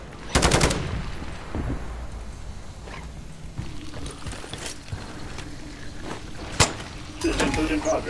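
Sentry gun firing in MW3 Zombies, heard as short bursts of automatic gunfire scattered over about eight seconds, with a sharp crack near the start and another later, set against game ambience.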